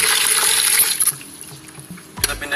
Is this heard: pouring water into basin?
yes